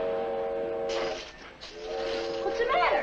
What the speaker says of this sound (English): It's the evening freight train, that's all.